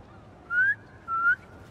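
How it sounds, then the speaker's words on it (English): A two-note whistle used to call pigeons in the video game Spider-Man 2, two clear rising tones about half a second apart, near and alone over faint background ambience. "Try a whistle."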